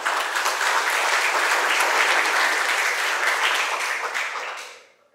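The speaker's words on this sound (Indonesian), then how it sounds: "Tepuk tangan yang meriah untuk kita semua." A large audience at a high school student council handover ceremony in Jember, Indonesia, claps in a dense, steady burst of applause lasting about five seconds before fading out.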